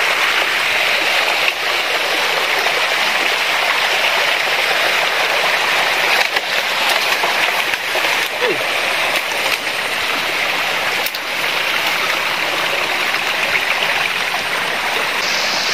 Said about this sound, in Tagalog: Malakas ang agos ng mga bukal dito kasi umuulan.